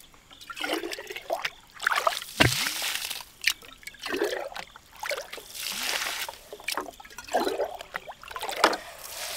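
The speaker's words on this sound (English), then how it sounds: "The water is coming up from the ram pump, but also back down from the upper portion of the delivery pipe." Water from a ram pump delivery pipe splashes and gurgles close by in irregular surges, trickling and sloshing with short bursts and brief lulls.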